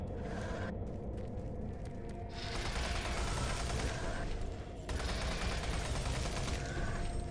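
Guns firing in Doom 3 VR, a steady stream of dense, noisy shots that barely lets up over several seconds, mid-level and continuous.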